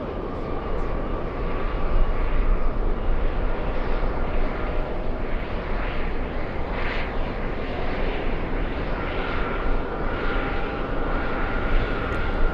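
Delta airliner arriving at JFK from Naples, a loud, continuous jet roar close by with pulsing rumble and a faint high whine, steady for the whole stretch with no talking.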